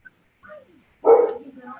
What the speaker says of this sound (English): The dog is going at it.